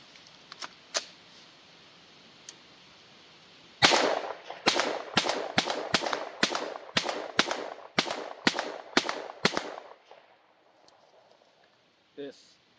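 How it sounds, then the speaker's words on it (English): A Stribog SP9A1 fires 124 grain NATO Winchester rounds at 25 yards outdoors, a string of about a dozen sharp, evenly spaced shots. Fainter distant shots come before the string, and quiet ambience follows it. "Next up, I have my Stribog SP9A1. This is as well loaded up with 124 grain NATO Winchester rounds, shooting at a distance of 25 yards."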